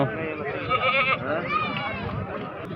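Goats bleat at a crowded livestock market in Pakistan, with several wavering cries overlapping under a steady murmur of people talking nearby.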